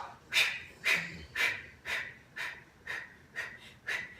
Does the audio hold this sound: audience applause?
no